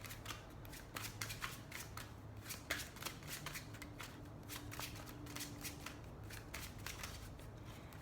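Tarot cards shuffled and pulled from the deck, quiet close riffling and flicking in quick repeated bursts, soft and intimate with no talk over it.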